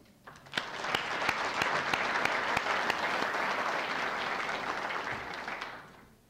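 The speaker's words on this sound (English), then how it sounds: "I really would love to have you give them a big round of applause, my teammates from all sports" An audience at an athletic hall of fame induction applauds teammates, clapping that swells quickly, holds as a dense steady roar for several seconds, then tapers off.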